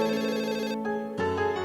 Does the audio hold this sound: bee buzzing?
no